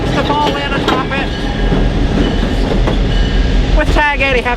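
A train rolls past on the railroad near Chickamauga, loud and close, its rumbling wheels clattering with sharp metallic squeals and tonal screeches rising over the roar.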